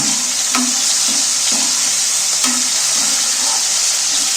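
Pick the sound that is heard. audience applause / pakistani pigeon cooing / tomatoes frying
tomatoes frying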